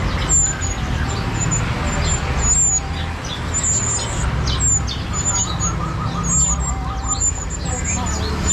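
Small birds chirp and tweet at a roadside bird shop in East Java, Indonesia, where long-tailed magpie-robins and chicks are kept; bright, repeated high calls ring out steadily over a low rumble of nearby traffic.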